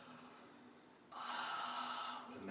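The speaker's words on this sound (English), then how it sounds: "it's like a Darth Vader type breath" Ujjayi yoga breath made by constricting the back of the throat, a Darth Vader-like breath: a soft inhale followed by a louder, raspy, hissing throat breath that holds steady, close and alone without talk.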